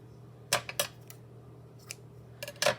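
Small scissors snip thread tails on a handmade stamp tag, a few sharp close clicks spaced irregularly over a quiet background.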